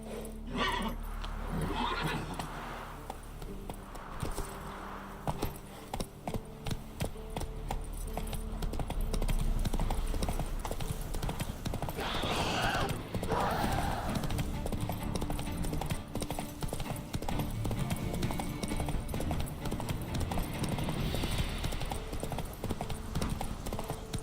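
A horse gallops in The Witcher 3 video game, a quick, steady clip-clop of hooves running continuously, with an occasional neigh and faint keyboard-like clicks in the background.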